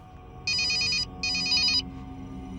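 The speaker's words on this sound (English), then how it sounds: "who was it who made the call to the cell phone that woke Felicity from a deep, drug-induced" A cell phone rings in two long electronic bursts with a short gap between them, loud and close over a low background hum, with no one speaking.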